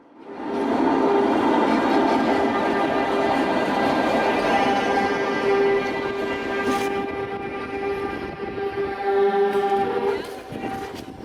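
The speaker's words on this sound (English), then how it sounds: "The Mark I train was run back and forth from the tunnel portal to the pocket track." A SkyTrain Mark I train runs along its guideway between a tunnel portal and a pocket track, a loud sustained rumble with steady whining tonal hums that rise and shift, fading slightly before a closing surge.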